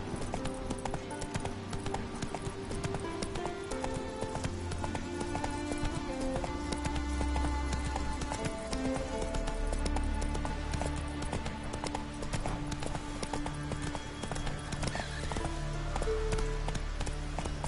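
Horse hooves pound in a steady galloping clip-clop through the whole stretch, loud and close, from the horse Roach in the video game The Witcher 3: Wild Hunt, with no talking.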